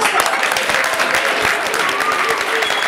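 An outdoor open-air film screening audience applauds the team that organized it, a thick sustained wash of many hands clapping, loud and even throughout.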